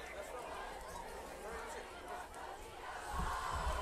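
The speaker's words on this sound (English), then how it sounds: "And that Longhorn crowd is rolling." A Longhorn crowd roars at a high school football game, a steady broad wash of cheering and chatter at moderate distance, under a commentator's voice.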